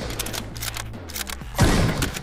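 Bursts of rapid gunfire in the zombie shooter game Apocalypse Party come as a string of sharp cracks, then give way to a heavier, denser burst near the end, with no speech.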